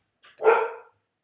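A single sharp dog bark, close and fairly loud, preceded by a faint short yip, then silence.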